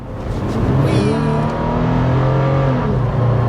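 Engine of a 2022 Toyota 4Runner V6 family SUV under full throttle, a steady loud drone rising in pitch as the vehicle accelerates, heard from inside the cabin with no talk.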